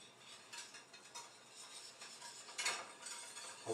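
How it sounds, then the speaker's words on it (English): Broth being whisked in a casserole dish, soft scraping and faint clinks of a metal whisk against the dish, quiet and close, coming in uneven strokes with one sharper scrape near the end. "So the first thing I'm going to do is whisk and put the broth in"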